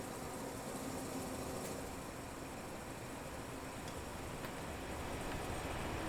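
A train departs in the video game Transport Fever 2, heard as a steady broadband rumble and rolling noise that stays even throughout, with a few faint high clicks and no voices.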